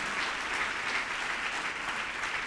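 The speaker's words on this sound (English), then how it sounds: "Let's give him a big round of applause," Audience applause after a leadership talk, a steady, moderately loud wash of clapping from a room of listeners that holds evenly throughout.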